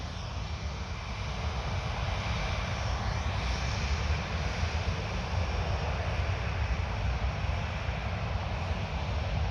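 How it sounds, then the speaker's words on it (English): An Air France Airbus A320 rolls for takeoff at Orly airport near Paris, producing a continuous broad jet-engine roar that stays steady and fairly distant throughout, with no voices. "Ready to take off. A320 Airbus."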